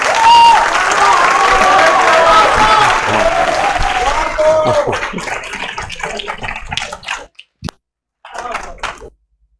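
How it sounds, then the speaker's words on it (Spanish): Applause from the audience at a Spanish-language talk on group theory and the Rubik's cube, loud sustained clapping for about four seconds that thins into scattered claps and fades to near silence. "Un aplauso."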